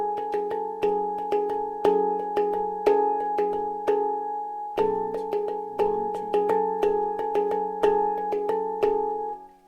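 A handpan plays two against three, left hand in twos and right hand in threes, bright metallic notes ringing and overlapping in a steady repeating pattern, close and clear with no talking.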